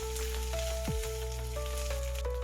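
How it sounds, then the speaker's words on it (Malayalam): Coconut pieces fry in hot oil with fennel, split green chillies and curry leaves, a steady close sizzle with faint crackling and a few tonal clinks over it, no voices. "ഇപ്പോൾ തേങ്ങാക്കൊത്ത് നന്നായി ഫ്രൈ ആയി വന്നിട്ടുണ്ട്"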